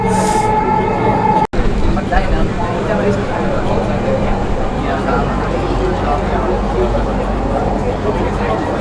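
Inside a moving Dhaka metro rail train, a steady, loud rumble and hum of the carriage runs throughout, with a brief dropout near the start and passengers talking over it.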